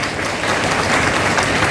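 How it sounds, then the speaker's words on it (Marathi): Dense, steady crowd applause at an event audience, loud and continuous, with many hands clapping together and no single claps standing out. "आपल्या टाळ्यांचा आवाज जास्त कडकडाटीने मोठा झाला पाहिजे"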